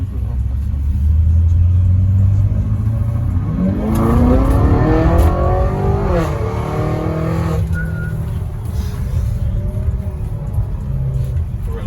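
BMW X5 M Competition, stage 2 tuned to 800 hp, driven hard: a loud, close engine roar rises and falls through shifts, with a hard braking phase and people talking over it.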